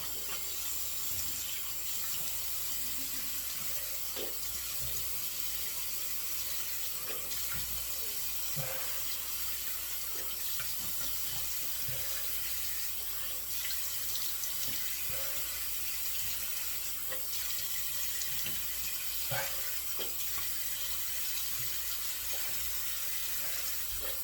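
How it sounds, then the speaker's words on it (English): Hot tap water runs steadily from a faucet into a bathroom sink during shave prep, a continuous close splashing hiss that holds even for the whole stretch with small flow variations and no voices. "Rinse with hot water for a few minutes"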